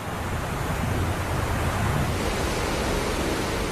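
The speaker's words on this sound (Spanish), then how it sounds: "En tan solo un minuto, más de 135 millones de litros de agua caen sobre el turbulento cauce del río Niágara." Niagara Falls pouring vast volumes of water into the turbulent Niagara River, a steady broadband roar with no breaks, loud and continuous throughout.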